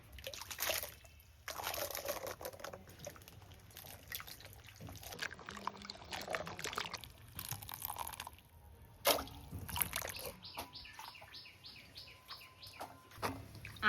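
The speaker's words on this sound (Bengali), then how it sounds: "লতিগুলো বেছে রেখেছিলাম ওগুলো ধুয়ে নেবো" Taro stolons are washed by hand in water, with splashing, pouring and dripping sounds in uneven bursts, close by, while birds call faintly in the background.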